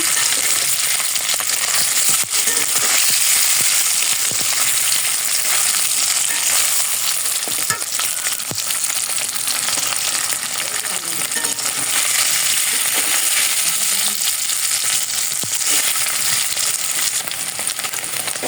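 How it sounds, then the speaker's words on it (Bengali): Paneer frying in hot oil in a pan gives a loud, steady sizzle for the whole stretch, broken by occasional sharp clicks and scrapes of stirring. "ভাজা হয়ে গেছে"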